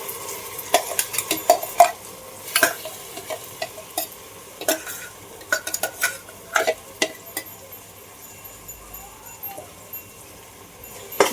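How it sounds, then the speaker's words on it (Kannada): Green paste and ground masala fry in a pan for a pulao, with a steady sizzle under repeated spoon stirring and sharp scrapes and clinks against the pan, close and moderately loud, no talking. "ಇದು ಹಸಿ ವಾಸನೆ ಹೋಗುವವರೆಗೂ ಫ್ರೈ ಮಾಡಬೇಕು."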